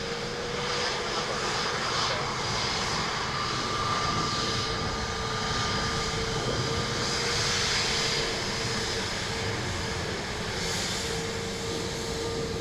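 A fixed-wing airliner lands on runway 28 left at Dublin Airport, its engine roar steady and loud for the whole stretch with a faint tonal whine riding over the broadband rumble.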